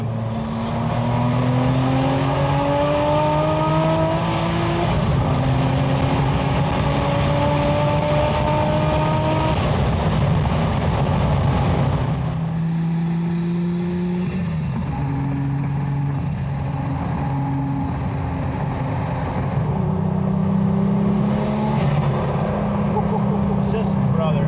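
A sports car engine, Porsche 930, R34 GT-R or Supra, revs loudly and close in repeated rising pulls with gear changes, while people talk over it.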